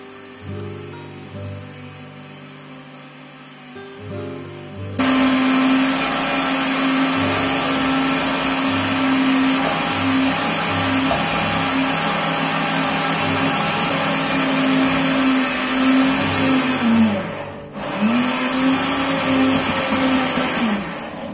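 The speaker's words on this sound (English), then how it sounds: "I placed it in my blender, then I put small amount of water, and then I simply blend it" Chopped cabbage and a little water whirring in a kitchen blender for sauerkraut; a quiet start gives way to a loud, steady motor roar that dips briefly near the end, then resumes.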